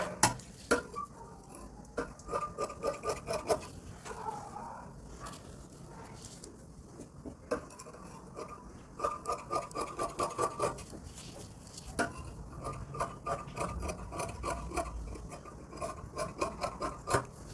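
Scissors cutting a saree's fabric along marked lines for a frock sleeve, a run of close, crisp snips and rustles coming in uneven bursts, with brief handling knocks between them and no talking.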